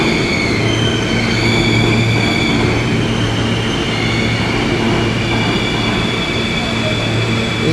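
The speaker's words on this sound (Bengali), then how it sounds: "এটাই দুই পাশে অটোমেটিক যে ট্রেনটা যাবে, সেই ট্রেনটা অটোমেটিক চলে আসছে।" An automatic train arrives on a rail line toward Manhattan, with loud rumbling and rattling wheels on the track and faint squealing tones above. The noise is close and constant throughout, with a voice barely audible beneath it.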